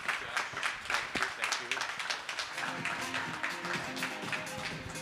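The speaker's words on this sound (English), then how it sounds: "Give him a round of applause." Conference audience at a Techonomy event claps in a brief scattered round of applause, fairly close, tapering off as a voice begins speaking over it.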